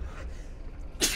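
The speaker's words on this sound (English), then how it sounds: "Gotta sneeze." A single short sneeze bursting out at the end after a quiet moment, close and fairly loud.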